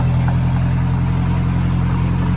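A 2.3 turbo four-cylinder engine in a Ford Ranger runs with an open downpipe exhaust, giving a loud, steady, droning idle with a low, throbbing pulse throughout.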